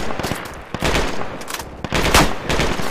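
Gunfire in the military shooter Project Reality on a woodland map: several bursts and scattered shots, some crisp and near, others more distant, with no voices over it.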